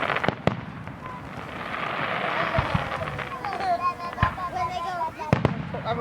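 Distant fireworks booming and crackling at irregular intervals, with sharp pops cutting through steady background noise and some chatter nearby.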